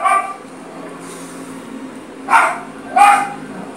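A dog barks in the background of a Prince of Persia: The Sands of Time gaming session, with a faint yelp at the start and two clear, separate bark bursts later, fairly near over a low room hum.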